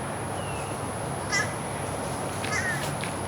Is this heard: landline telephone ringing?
no